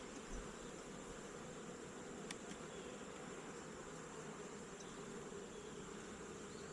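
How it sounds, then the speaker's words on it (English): Bees carrying pollen buzz around a strong hive, an even, continuous droning hum heard up close for several seconds, with no speech. "You got bees with pollen on the legs."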